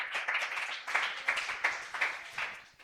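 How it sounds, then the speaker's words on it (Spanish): A church congregation claps together during a worship service, a faint, rhythmic run of applause with regular bursts of hand claps. "Aplauda a Jesucristo el Señor."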